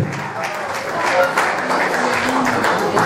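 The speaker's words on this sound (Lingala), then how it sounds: "Applaudissez pour Jésus-Christ de Nazareth" A church congregation at a 25th wedding anniversary celebration applauds: dense, sustained clapping from a large crowd that swells slightly and holds steady, with voices mixed in.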